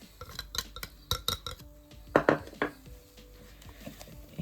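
Utensils clink and scrape against a bowl in quick bursts, then a softer wet swirling as thick honey cake batter with baking soda and baking powder is stirred, fairly close.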